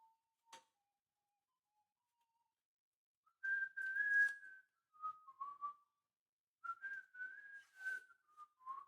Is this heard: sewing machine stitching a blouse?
no